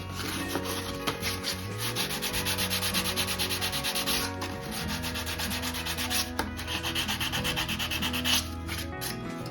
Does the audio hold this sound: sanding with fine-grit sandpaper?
yes